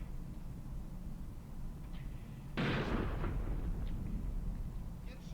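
A 37 mm gun fires once in the Graviteam Tactics war game, a single loud boom with a rumbling tail, set against steady low battlefield ambience and a few faint distant cracks.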